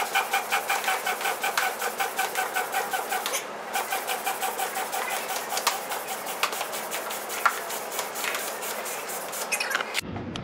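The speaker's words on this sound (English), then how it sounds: "These NRS Super 2 pumps are pretty neat because once you kind of get pressure built up in this big chamber, it gets pretty hard to push down." A NRS Super 2 hand pump inflates a paddle board in steady, rhythmic strokes, each push giving a clear hissing pulse for the first few seconds, then a denser run of quicker pumping that ends abruptly.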